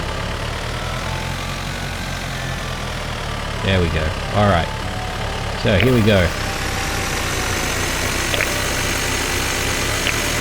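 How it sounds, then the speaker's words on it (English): A tractor engine idles in the farming video game Dinkum, a steady, low mechanical rumble that runs the whole way through while someone speaks briefly over it. "get this tractor in."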